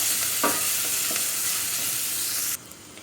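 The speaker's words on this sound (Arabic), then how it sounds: "هنزل بالبصله بتاعتي كده على السمنه" Onion sizzling and frying in ghee in a pan, a loud continuous crackle that is stirred once or twice, then drops slightly quieter near the end.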